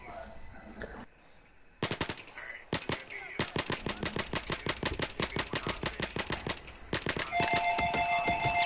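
Rapid bursts of automatic gunfire from a Battlefield 4 zombies match, loud and close, firing in long rattling strings with brief pauses and a denser volley near the end.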